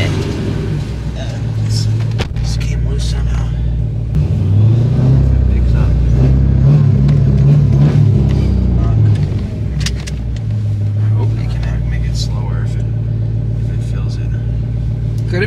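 Rumbling engine and exhaust of a 1000 HP Dodge Hellcat with an exhaust leak, heard from inside the car as a steady loud drone with revving swells while people talk over it.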